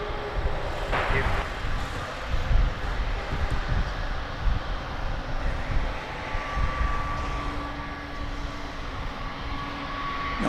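Qatar Airways airliner at DFW airport: a broad, steady jet engine roar from a distance, rumbling continuously, with voices talking over it.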